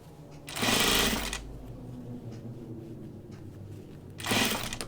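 Sewing machine topstitching drapey Spoonflower fabric on a kimono or shirt dress, two short loud bursts of close stitching at the start and end with a quieter hum in between.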